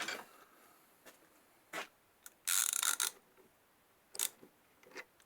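Tightening a 32 mm face mill into its holder in a workshop: a few sharp metallic clicks and scrapes, with one louder rasping burst in the middle, close and otherwise quiet.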